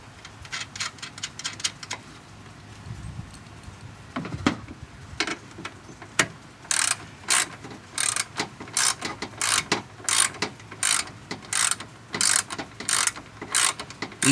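Ratchet wrench tightening a nut on a Toyota Avalon headlight assembly, with quick bursts of close, crisp clicking that grow into a steady, rhythmic ratcheting run toward the end.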